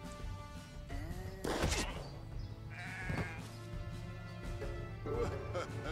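Sheep in the Renowned Explorers video game bleat several times over game music and clattering effects, the calls moderately loud and drawn out, with talk mixed in.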